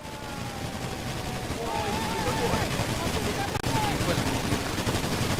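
Rapid automatic gunfire from GTA V roleplay players shooting at a car, a dense continuous rattle of shots throughout, with excited voices talking and shouting over it.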